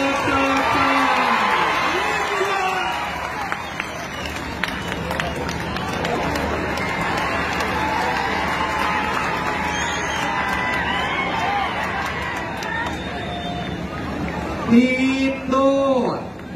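Spectators at a kushti wrestling bout between Sikandar Shaikh and Mahendra Gaikwad clap and cheer in a dense, continuous roar of crowd noise, with an announcer's voice rising over it near the end.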